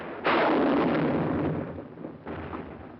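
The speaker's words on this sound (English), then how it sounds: "Our own artillery was brought to fall within 100 yards of our front-line elements." World War II artillery fire during the Battle of San Pietro: a loud, close boom that rumbles and decays over about a second, followed by a second, weaker blast.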